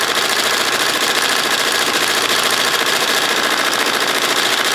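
An embroidery machine stitching a jacket back with silver metallic thread, held in a magnetic Hoopmaster hoop, makes a loud, dense, steady mechanical whirr and rapid needle clatter throughout.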